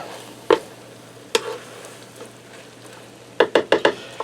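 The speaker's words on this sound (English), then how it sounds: "I'm going to give that a gentle stir because these potatoes are tender" A gentle stir of beef and tender potato au gratin in a Ninja Speedi one-pot cooker brings a few scattered spoon scrapes and clinks against the pot, with a quick cluster of taps near the end.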